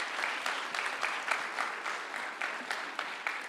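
An audience at a TEDx conference gives a speaker another round of applause, steady, moderately loud clapping from a crowd filling the whole few seconds.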